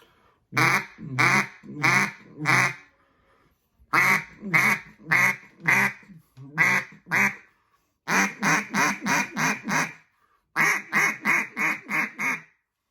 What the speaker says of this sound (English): So practice your quack, practice your call.